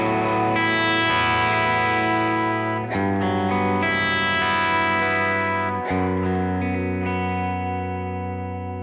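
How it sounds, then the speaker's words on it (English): Chapman electric guitar played on the bridge pickup through a slightly overdriven amp, ringing chords strummed and left to sustain, loud and close with a gritty edge and light effects, no voices. "Now, I'll start with the bridge pickup, and there's a little bit of dirt in my amp."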